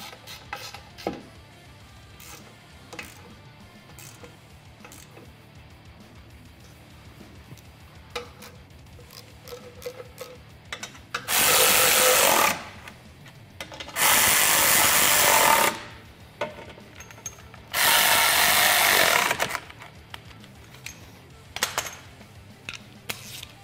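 Power tool tightening winch bumper mounting hardware on a Polaris Ranger XP 1000: three loud bursts of whirring and rattling, each lasting a couple of seconds, separated by quieter handling clatter and clicks.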